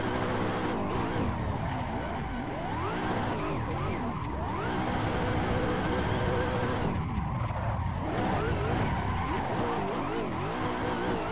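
A car drifts sideways in a racing game played on a Fanatec steering wheel, its tires squealing in long wavering screeches over a revving engine, loud and nearly continuous.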